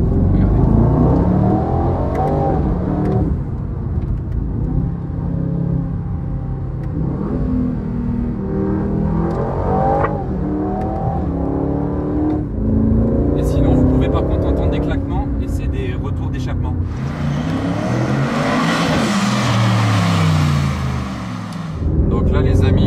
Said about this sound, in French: Donc on reconnaît le V8 AMG